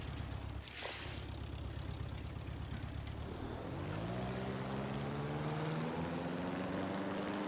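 A propeller plane sub taking off in a video game: a steady engine drone that rises in pitch and power partway through, with a droning, whirring tone and no talk.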